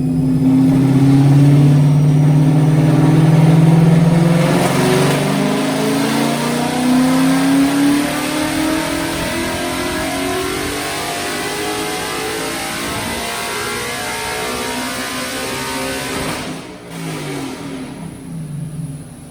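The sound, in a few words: Coyote-swapped Ford Mustang revving on the dyno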